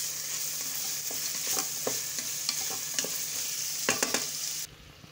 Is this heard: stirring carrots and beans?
yes